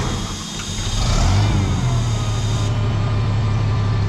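An old tractor engine cranks and catches after a short moment, then settles into a loud, steady, rumbling idle heard up close.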